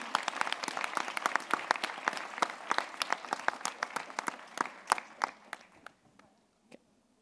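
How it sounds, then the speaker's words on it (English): Applause from the audience at a global summit of women political leaders, honouring girls and women; distinct individual claps build into a lively patter, then thin out and fade to a few last claps. "I would like you to give an extra, incredibly strong round of applause for these wonderful girls and women."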